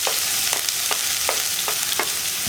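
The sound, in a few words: chopped onion frying in coconut oil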